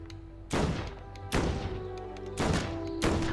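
Four dull, booming shots from an agent pistol in Lego Worlds strike a tree, coming roughly every second over a low steady game hum.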